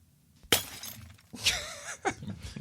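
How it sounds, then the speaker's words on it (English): A glass-breaking sound effect plays on a radio show: a sharp shattering crash followed by a second crash with tinkling shards, then a shorter clink, set against a quiet background. "That was a glass break."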